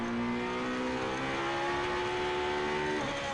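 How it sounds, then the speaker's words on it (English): A GT3 race car's V8 engine roars loud and sustained at high revs, pitch rising steadily as it works hard through a corner on a circuit, then dropping briefly near the end. "Just listen to that V8 engine working hard."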